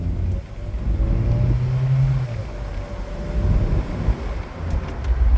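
Volkswagen Golf 3 with an automatic gearbox, its engine struggling as if about to stall while the car drives. There is a steady low engine drone with road and wind rumble, one brief rise in pitch, and no talking.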